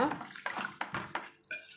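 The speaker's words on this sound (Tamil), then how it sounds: "இது போல் நல்லா பசஞ்சு கழுவிட்டு நம்ம அலசி எடுத்துக்கலாங்க" Ivy gourds being rinsed and squeezed by hand in a bowl of water to wash out the seeds, quick splashing bursts repeating about every half second, close and soft, with someone talking over it.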